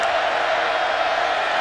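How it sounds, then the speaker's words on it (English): Steady roar of a large football stadium crowd at Nebraska on a third down against Purdue, a dense sustained wall of cheering with no breaks. "3rd and 6, crowd back into it."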